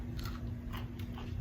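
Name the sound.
biting into crunchy hot shot biscotti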